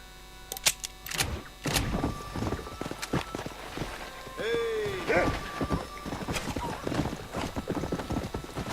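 Hooves of a blond horse gallop in the Red Dead Redemption video game, a quick near clip-clop rhythm over game ambience, with a short neigh partway through and a person talking over it.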